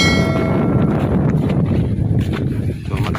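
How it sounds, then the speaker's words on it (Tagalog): Strong wind buffets the microphone on a pumpkin farm field with a continuous low roar, loud and unbroken throughout. "malakas yung hangin dito"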